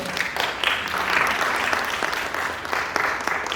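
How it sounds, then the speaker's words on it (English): An audience at a healthcare financing panel gives the panelists a round of applause, full and steady clapping throughout with a few louder individual claps standing out, no speech over it. "Please help me give them a round of applause."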